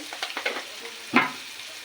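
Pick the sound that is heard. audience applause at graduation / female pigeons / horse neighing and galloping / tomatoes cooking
tomatoes cooking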